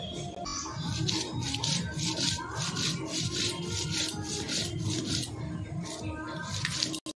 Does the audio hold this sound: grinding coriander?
yes